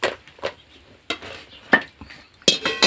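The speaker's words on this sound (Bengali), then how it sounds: "আমি সর্ষের তেল দিয়ে ভেজে নিচ্ছি" Rice flour pitha fries in hot mustard oil, with short, sharp bursts of stirring and scraping at uneven intervals over a low, steady sizzle.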